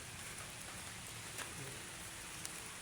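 Rain falls in a steady, soft hiss across the whole stretch, a faint even wash of drops with an occasional louder tap, no talking.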